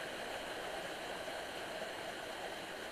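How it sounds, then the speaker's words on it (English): Two small waterfalls in Fairy Dell spill into a pool and a rippling brook, giving a soft, even, continuous rush of falling water at a distance, faint and unbroken with no voices. "all is still, save the ripple of waters from the opposite falls to the purling brook beneath"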